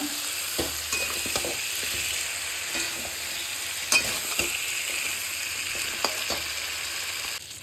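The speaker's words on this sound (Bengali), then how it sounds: "আর আমি দেবো মাছের মাথা, সমস্ত দিয়ে ভালো করে কষাবো।" Fish heads with fried potatoes sauté in a pan over a low gas flame, a steady soft sizzle broken by scattered scraping stirs of a spoon, close and without any voices.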